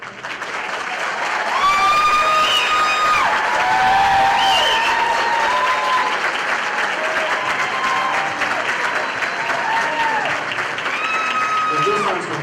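Loud, sustained audience applause fills a military graduation ceremony at an army post, with cheering and whistles rising over the clapping crowd and some voices mixed in.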